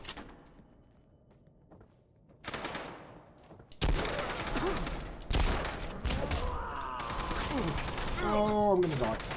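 Gunfire from a weapon in the video game Fallout London, loud bursts of rapid shots and impacts running through most of the clip amid game noise, with a voice talking over it.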